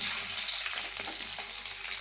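Eggs fry lightly in a hot pan with a dense, steady sizzle filling the short stretch, close and loud with no speech.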